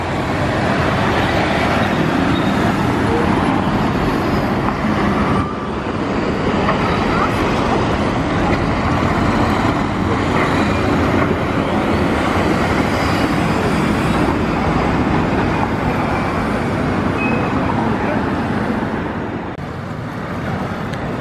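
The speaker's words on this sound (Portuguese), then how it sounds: "Mais um elétrico aí, ó, um Caio Milênio 3." A Caio Millennium 3 electric trolleybus passes in busy São Paulo city-centre traffic. Its loud, continuous rushing roar blends with road noise and other vehicles, and voices can be heard faintly underneath.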